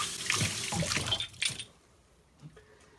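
Tap water runs over a trumpet mouthpiece being rinsed at a sink, a steady splashing stream for about a second and a half that then cuts off, leaving a few faint drips.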